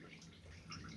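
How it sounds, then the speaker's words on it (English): Engine oil pouring from an Audi A2 during an oil change, running into a drain basin as a steady, faint liquid trickle and splash for the whole moment, with no talk over it. "you can hear oil is pouring down in the basin"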